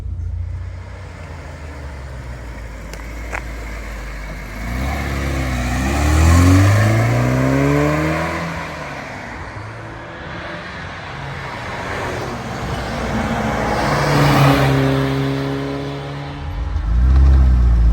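A 1968 Alfa Romeo 1750 Spider Veloce drives past on a farm road in two flybys, its engine note swelling as it approaches, peaking close by and fading away, over a steady background hum.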